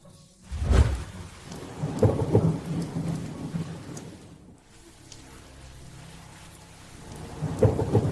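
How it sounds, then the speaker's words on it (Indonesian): A heavy downpour with rolling thunder, steady rain hiss throughout and deep thunder rumbles swelling near the start, around two seconds and again at the end. "hujan deras langsung turun"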